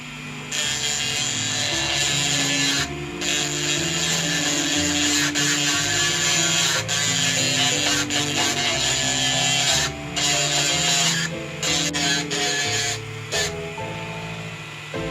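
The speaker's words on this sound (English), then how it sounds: "So I'm going to use the grinding tool." A grinding tool whines steadily against an old iron Christmas tree stand, taking off excess cast metal in long continuous passes with brief pauses between them, loud and close.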